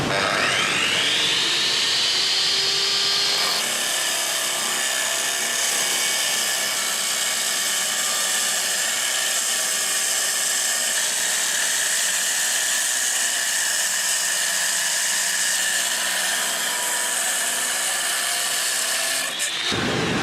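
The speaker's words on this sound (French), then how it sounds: "L'aspirateur est posé derrière." A loud vacuum cleaner motor, hooked up behind a concrete diamond-disc cutting tool to collect the dust, whines up to speed and runs steadily close by for a long stretch, then cuts out at the end.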